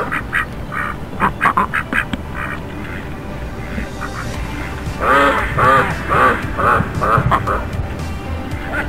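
Black ducks on an autumn outing quack nearby in scattered calls early on, then break into a loud, rapid run of repeated quacks in the second half over steady outdoor background noise.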